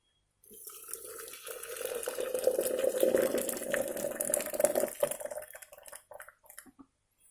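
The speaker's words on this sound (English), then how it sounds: "Let's put it into the coffee plunger" Hot water poured from a pot into a coffee plunger holding freshly ground, fire-roasted coffee at a camp, a steady close liquid stream with a trickling, dripping tail as the flow stops.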